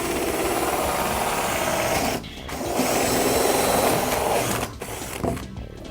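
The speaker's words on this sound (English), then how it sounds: "spin the product over and then drill through the other side" Power drill boring through an acrylic panel from the reverse side, a steady loud whirring grind that briefly dips twice as the bit eases off, with no talk over it.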